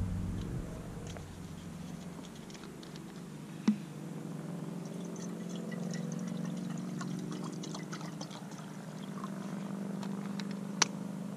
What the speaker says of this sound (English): Better put some water in first.